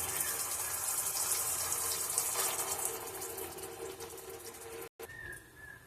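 Water pours in a steady, close gush for several seconds into a pan of potato and eggplant curry, breaking off briefly near the end.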